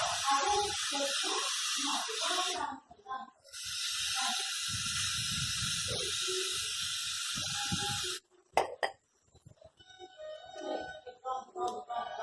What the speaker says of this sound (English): Just use a brake cleaner and just clean this area.